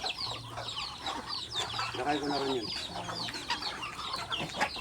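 Chickens on a rural farm cluck and murmur close by in a loose, irregular stream, while a person talks briefly over them and other birds chirp faintly in the background.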